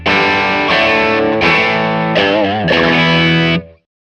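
Electric guitar played hard into overdrive, giving gritty breakup on several loud sustained chords and notes, one with a wavering bend, close and dense before stopping abruptly.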